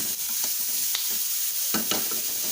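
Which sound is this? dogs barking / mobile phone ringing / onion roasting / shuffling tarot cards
onion roasting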